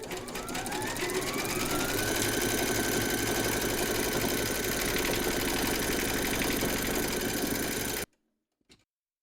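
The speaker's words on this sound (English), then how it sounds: "Pop your hoop into your machine and stitch round number 3 to secure them" A computerized embroidery machine stitches a quilting round on fabric held in a hoop, making a fast, steady mechanical whir and needle rattle that holds for about eight seconds, then stops and leaves near silence with one faint click.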